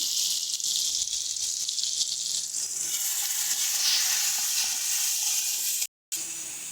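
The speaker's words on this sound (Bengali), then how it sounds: "এবারে ভালো করে আমরা মশলা কষিয়ে নেব।" Spices with turmeric and salt fry for mustard hilsa, giving a loud continuous hissing sizzle close up that cuts out briefly near the end.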